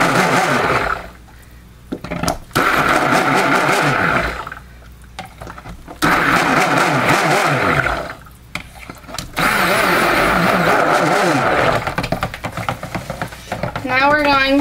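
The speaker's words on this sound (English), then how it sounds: "I'm going to use my stick blender to buzz up the last little bit of oils." A stick blender buzzes through the last of the soap-making oils in steady bursts of a few seconds each, separated by short pauses, loud and close with a whirring motor tone.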